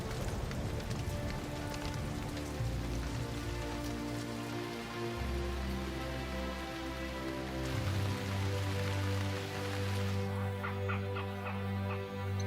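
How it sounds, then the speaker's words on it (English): Rain falls on the dusty Boteti river area at the end of winter, a steady wash of drops in the open with bird calls layered over it. No voices can be heard. "by the end of the winter, rains come to the dusty Boteti."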